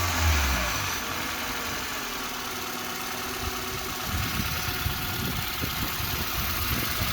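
A car engine idles steadily at close range, a continuous low rumble with a slight vibrating roughness and a brief louder swell at the start, no voices present.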